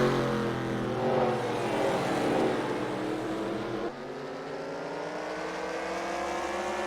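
Sportsman division race cars lapping Oswego Speedway during a heat race, a loud continuous engine roar of several cars at once, steady throughout with a brief dip midway as the pack moves past.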